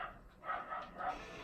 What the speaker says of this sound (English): Sorry if you can hear the dog bark in the background